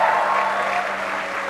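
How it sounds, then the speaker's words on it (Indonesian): Studio audience at a political comedy discussion applauds a guest comedian, with a steady, dense wash of clapping at moderate loudness that fades a little partway through and continues to the end. "Kita kasih tepuk tangan ke Mas Abdur, kita kasih tepuk tangan ke Mas"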